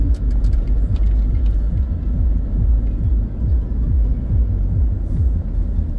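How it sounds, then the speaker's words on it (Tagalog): Steady road traffic on Centennial Road in Kawit, Cavite, heard from inside a moving vehicle, a continuous low rumble with repeated passing whooshes of cars and heavier vehicles. "Normal traffic dito sa Centennial Road, Kawit"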